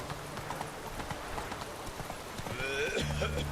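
A horse's hooves clip-clop in a steady trotting rhythm in The Witcher 3: Hearts of Stone, moderately close, with game music and other effects rising near the end.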